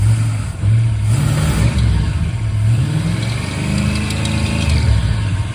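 A cold 1979 Chrysler 300 engine fitted with a rebuilt Thermoquad carburetor revs up and settles back several times, a loud, close, rumbling drone rising and falling in pitch between idle and blips.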